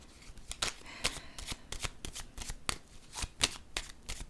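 Tarot cards shuffled by hand in quick repeated riffles and slaps, a dense run of sharp papery snaps close up with no voices.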